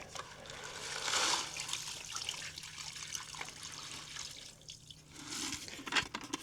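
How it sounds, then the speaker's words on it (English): Water pours and splashes as it is dumped out of a gold sucker collector holding gravel outdoors, a steady gushing trickle close by with no talk. "let's dump off the water and see how much gravel we've collected"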